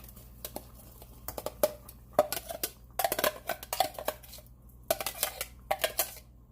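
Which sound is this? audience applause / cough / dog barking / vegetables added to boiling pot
vegetables added to boiling pot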